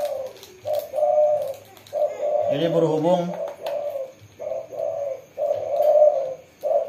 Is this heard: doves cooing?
yes